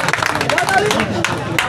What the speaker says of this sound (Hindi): एक बार ताली वाली बजा दीजिए ना